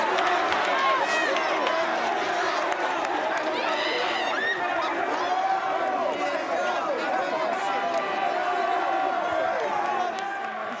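Loud crowd noise fills the arena after a 6A state basketball championship win by the Huskies over Wichita Heights: continuous cheering, shouting and chatter with scattered claps, steady and close throughout.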